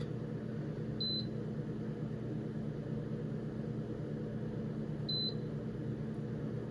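An air fryer being preheated to 375 gives two short, high beeps about four seconds apart over a steady low hum.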